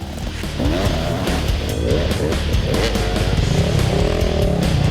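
Cross-country motorcycles racing at a national championship round, engines revving loudly and continuously with rising and falling whines as bikes battle close together, steady throughout.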